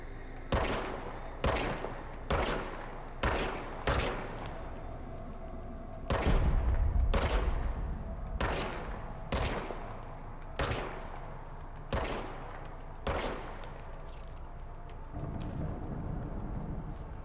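Repeated gunshots from a weapon in the video game Control, about a dozen sharp loud reports fired at an irregular pace of roughly one per second, with a heavier burst partway through and no talking.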